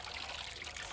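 Water trickles and splashes steadily and softly, nearby and on its own, as soapy laundry is rinsed in clean water for old-fashioned hand washing.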